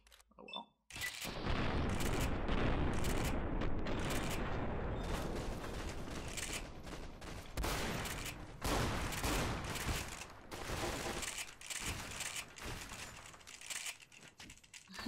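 Rapid bursts of gunfire from beanbag rounds in a heavily modded Fallout game, loud and dense for most of the stretch with brief pauses, accompanied by crackling impacts and no talking.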